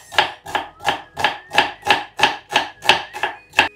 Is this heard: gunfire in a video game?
no